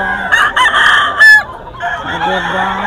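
A rooster crows at a busy Bocaue pet market, its loud drawn-out call rising over clucking and market chatter, with voices talking nearby afterward.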